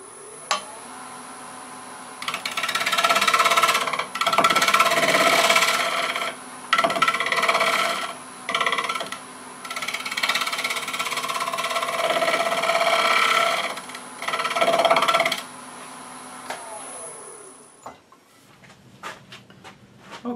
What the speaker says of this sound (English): we finished sanding this off the lathe using my rotary sander